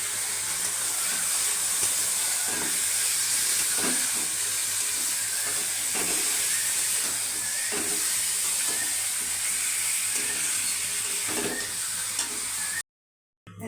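Chicken meat sizzling in a hot pan, a steady bright hiss and crackle with faint stirring knocks, close and continuous until it cuts off abruptly near the end.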